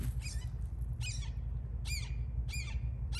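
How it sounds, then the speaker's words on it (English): An unidentified bird squawks four times in harsh, raspy bursts in a garden, the calls fairly close and spaced about a second apart over a steady low background hum. "don't know what kind of bird that is"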